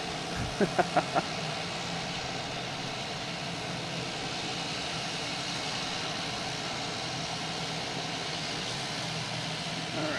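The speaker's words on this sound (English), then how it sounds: "We got JetBlue heading out there, getting ready to turn around" A JetBlue airliner taxis out at Logan Airport, a steady distant engine hum that holds evenly throughout, with a few brief taps near the start.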